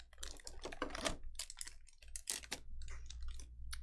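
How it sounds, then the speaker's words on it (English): Plastic packaging crinkling and rustling close up while a Yu-Gi-Oh! Yami Bakura Kotobukiya ArtFX-J figure is unboxed, a quiet, irregular flurry of crackles with no talking. "You guys got that plastic crinkle noise."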